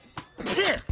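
A single, close, sharp sneeze bursts out after a brief intake of breath, ending abruptly, with a short thump just before the end.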